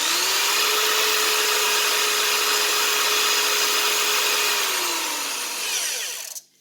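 Power drill spinning a brushless RC drag-racing motor during bearing-replacement maintenance, a steady high whirring hum held for about five seconds, then winding down and stopping.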